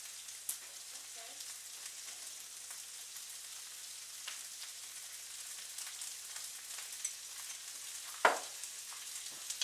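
Vegetables and tofu drizzled with honey fry in a pan with a steady, faint sizzle, broken by occasional soft scrapes and one sharper clack of stirring.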